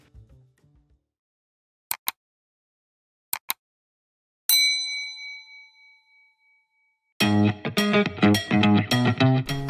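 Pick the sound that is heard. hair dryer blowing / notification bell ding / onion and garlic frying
notification bell ding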